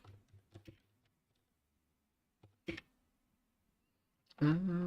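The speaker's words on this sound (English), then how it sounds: "I'm just typing stuff." Sparse computer keyboard typing, a few scattered clicks and taps in short bursts with quiet gaps, during a game development session, followed by a person starting to talk.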